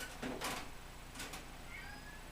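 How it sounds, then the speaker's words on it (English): A couple of faint, short meows from a cat sound at a distance against a quiet background hiss. "I'm listening to cats."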